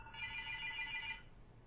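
A single telephone ring sounds, a clear electronic tone lasting about one second in a quiet room.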